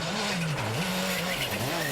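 A rally car races along a narrow, fast special-stage road at the 2008 Baie-des-Chaleurs rally, its engine note rising and falling through gear changes, loud and close with some tire noise.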